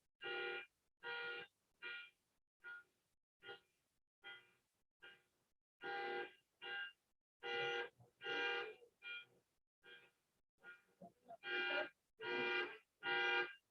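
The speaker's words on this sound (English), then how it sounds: "we do have a car alarm going off, a Toyota pickup apparently" A Toyota pickup's car alarm sounds in a quiet meeting room, repeating short electronic honks in a steady pulsing pattern that sounds faint and distant.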